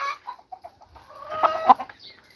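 A white rooster with an unusual comb clucks nearby in a string of short, soft clucks that build into a louder, busier run of calls before trailing off.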